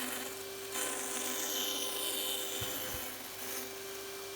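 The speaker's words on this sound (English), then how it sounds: "So I try to eyeball this, so I first just cut to almost the center of the board," A bandsaw cuts into a wooden board with a steady rasping, buzzing drone, its pitch shifting slightly as the blade works through the wood, with a couple of brief knocks.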